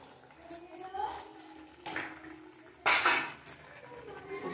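A lid goes onto a cooking pot of village-style prawn and cucumber curry with a few metallic clanks, the loudest sharp clatter about midway, amid kitchen clinks and faint background voices.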